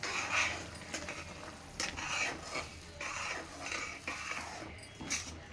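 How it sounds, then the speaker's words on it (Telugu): Oats being stirred into a pan for oats upma, with a steady scraping and stirring of a spoon against the pan over a soft continuous sizzle, close and moderately quiet, no voices. "ఇక ఈ ఓట్స్ వేసేద్దాం."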